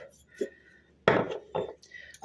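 Clinking and scraping of a utensil against a bowl as milk, yeast, sugar and an egg are mixed for dough, in a few short bursts, close by, with faint background noise between strokes.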